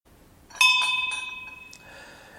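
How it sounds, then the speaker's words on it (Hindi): A temple bell in a home shrine is struck once, ringing bright and close before decaying gradually, followed by a softer lingering tone. "मम्मा आप सुबह सुबह घर में मंदिर में इतनी घंटी जोर से क्यों बजाते हो"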